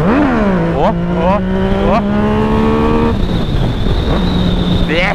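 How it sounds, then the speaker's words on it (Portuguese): A nearby motorcycle revving hard, its engine pitch sweeping up and down through several quick throttle blips before settling into a high sustained whine, loud and close, with a brief shout over it. "Motoca louca!"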